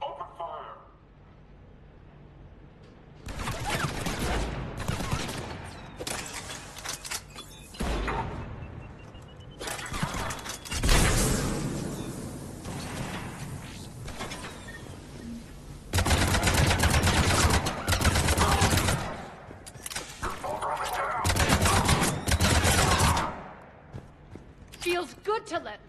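Sustained automatic gunfire rattles through a firefight in Mass Effect Legendary Edition, long dense bursts broken by short pauses, loud and close, with voices speaking between volleys.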